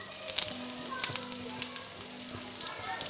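Whole garam masala and ajwain roasting in oil left from frying okra, a quiet steady sizzle with small sharp pops and crackles.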